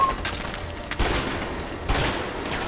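Gunfire from the video game A Way Out rattles in dense, overlapping bursts, with a couple of heavier booming shots standing out in a short, continuous fusillade.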